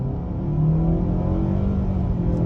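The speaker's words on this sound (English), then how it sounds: "check out the acceleration off the line" A 2022 Mitsubishi Outlander Black Edition pulls away from a full stop, its engine rising into a steady, loud droning rumble heard from inside the cabin, with no talking.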